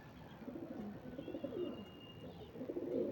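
Pigeons in a loft coo softly in low, repeated throaty bursts, faint and close, with a thin whistle-like tone passing briefly over them.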